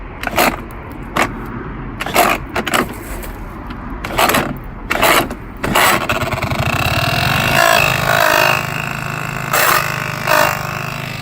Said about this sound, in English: It also has a kickstart now, which I'll demonstrate quickly.